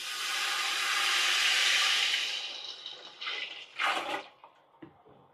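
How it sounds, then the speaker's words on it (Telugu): Water pours steadily into rice with a full rushing hiss for about two seconds, then trails off into a few short splashes and drips. No one speaks. "ఇంకొక హాఫ్ వాటర్ వేసేద్దాము"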